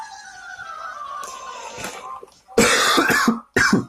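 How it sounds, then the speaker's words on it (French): A sick man coughs hard at close range, a few harsh bursts after a throat-clearing, loud and alone. "Excusez-moi, je tousse énormément."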